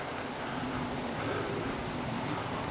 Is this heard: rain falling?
yes